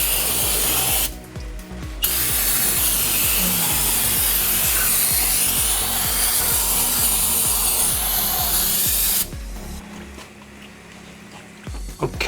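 A can of brake cleaner sprays onto a transmission surface of a 2011 BMW in a long, steady hiss up close that runs for several seconds, with short breaks near the start and end.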